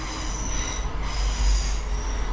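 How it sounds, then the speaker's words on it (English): A train passes with squealing wheels: a steady, piercing metallic squeal holds over a deep rolling rumble, loud and close throughout, with no voices. "We've got a train interruption."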